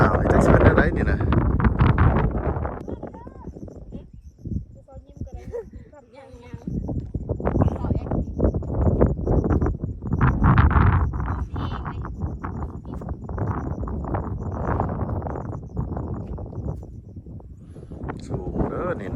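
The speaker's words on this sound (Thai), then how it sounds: "ลมบักแห้งๆเลย" Dry wind gusts steadily across the microphone high on Hua Lon Mountain in Xaysomboun, Laos, rumbling loudly and rising and falling while someone talks throughout.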